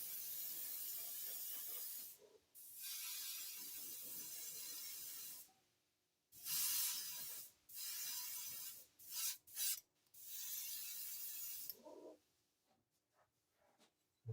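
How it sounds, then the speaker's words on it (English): An airbrush spraying white paint onto a homemade wooden crankbait lure, a steady close hiss in long passes broken by short pauses and quick bursts, with no talk over it. "You want to keep your airbrush moving,"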